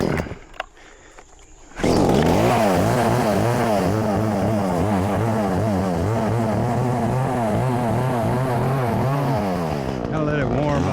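A chainsaw with its choke pulled starts after a couple of seconds of quiet handling, then idles and revs steadily up close. It runs loud and continuously with a harmonic engine drone while it warms up before tree cutting.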